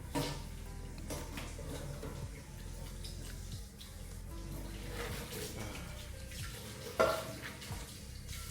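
Steady running water with clinking and scraping of a pot being scrubbed, ending in a sharper clank near the end.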